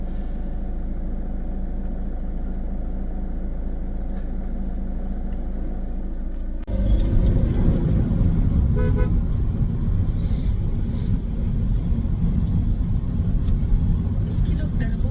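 A Chevy Cruze turbo engine holds a steady hum, then swells abruptly into a louder, rushing roar that stays up for the rest of the clip.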